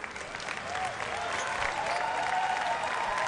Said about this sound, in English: And a nice round of applause from the folks here at the Adderholt Complex.